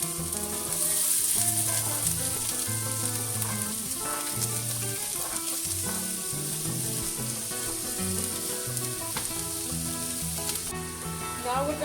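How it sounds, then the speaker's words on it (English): Garlic, Scotch bonnet pepper and onions fry in hot oil with a steady, dense sizzle that lasts throughout, under a layer of background music and no talk. "we're going to add in the garlic, Scotch bonnet pepper and some onions"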